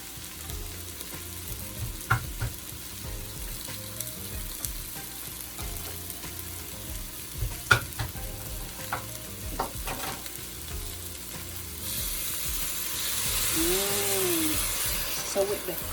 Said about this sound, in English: We're going to add some coconut milk.